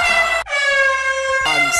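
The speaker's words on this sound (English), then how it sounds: "And adding in air horns for comedic effect." A loud air horn blares in long, steady blasts, with a brief break between them and a sharp shift in pitch near the end.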